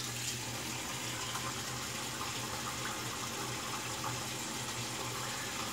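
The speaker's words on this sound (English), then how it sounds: "let's rinse that blade off" Steady rush of tap water running while a Gillette Winner razor blade is rinsed, close and continuous with no talking.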